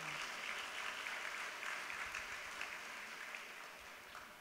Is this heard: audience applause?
yes